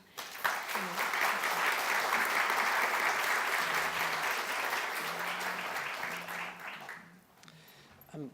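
Audience applause at the close of a mindfulness-at-work presentation at a university alumni event, a dense steady wash of many hands clapping for about seven seconds before fading into quieter room noise.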